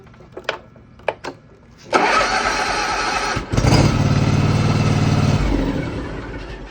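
A farm machine's starter motor cranking its engine, first a few sharp clicks from terminals being connected, then a loud steady whirring drone that shifts pitch midway and cuts off, close up.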